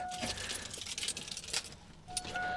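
A bunch of keys jangles and clinks in a hand before a Chevy truck is cranked, with bright metallic rattles throughout the short stretch and a steady hum underneath.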